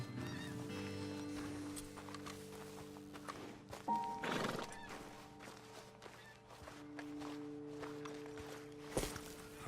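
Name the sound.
horses neighing and clip-clopping in video game Red Dead Redemption 2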